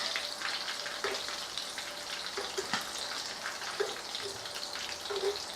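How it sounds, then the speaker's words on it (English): Dumplings frying in hot oil with oil spooned over their tops, a steady close sizzle with small pops and faint clinks of the spoon, quiet and without talking. "Grab yourself a spoon, this is a better way, and start throwing the oil on top of the dumplings."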